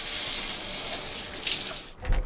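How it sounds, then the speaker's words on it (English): Shower water running steadily in a Nancy Drew video game, a continuous loud hiss that stops abruptly near the end, followed by a brief low thump. "I should take a shower."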